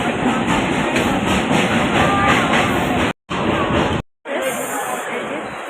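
Loud, constant rumble and rattle inside a moving train bound for Sealdah, with passengers chattering in the background; the sound briefly drops out twice.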